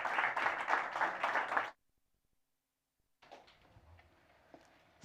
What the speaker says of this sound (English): An applause for the ladies, please.